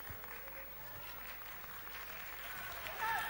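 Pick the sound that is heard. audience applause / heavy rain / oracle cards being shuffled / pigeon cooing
audience applause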